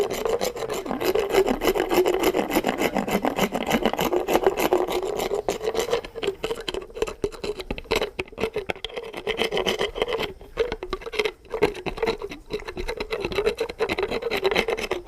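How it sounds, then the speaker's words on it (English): A dental polishing tool grinds against a horse's tooth in a continuous, close, rough rasping drone lasting throughout, its pitch and intensity shifting slightly as strokes vary. No one speaks. "I've just got the polishing tool, and I'm going to finish that off. Finish him off just with this tooth"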